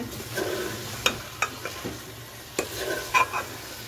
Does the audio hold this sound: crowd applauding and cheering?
no